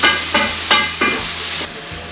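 Onion and garlic fry in a pot for mussels a la marinera, with a steady background sizzle broken by four or five regular scraping strokes of a spoon stirring the pan, fairly close and clear, no voices.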